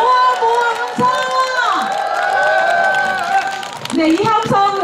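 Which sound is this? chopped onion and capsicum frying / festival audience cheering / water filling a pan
festival audience cheering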